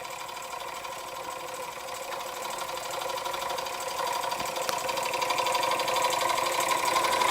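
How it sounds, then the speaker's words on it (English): A Weeden 648 model steam engine fitted with a Jensen heater runs at a steady, rapid mechanical chatter, close and even, growing a little louder as it goes, with no talking. "there we have a Weeden 648 steam engine with a Jensen heater"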